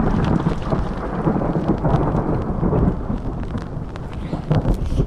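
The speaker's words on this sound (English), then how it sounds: "that storm is definitely starting to take hold" A thunderstorm building over a dam and road, with steady heavy rain hissing throughout and low rolling rumbles of thunder swelling and fading, loud and close, with no voices.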